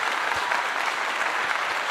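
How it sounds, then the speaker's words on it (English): Brief burst of applause for Congressman John Conyers, a dense steady clapping that fills the moment at moderate loudness with no speech over it. "Give him a clap."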